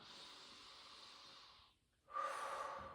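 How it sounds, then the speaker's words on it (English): Slow deep breathing during a yoga and Pilates session: a long airy exhale, a brief pause, then a strong inhale, close to the microphone with no talking. "Take a deep breath in and out."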